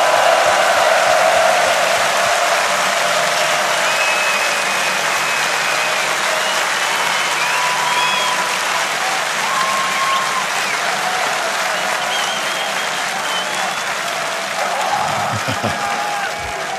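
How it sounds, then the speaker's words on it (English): Metal festival crowd at Wacken Open Air 2012 applauding and cheering at a concert, a loud continuous wash of clapping and crowd noise with faint whistles and shouts mixed in. "give yourself a big fucking hand of applause"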